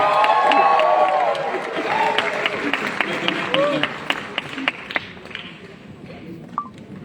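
A crowd at an Indonesian parenting seminar claps and cheers for a welcomed guest, uneven bursts of applause and whoops fading over several seconds while a presenter speaks through the noise.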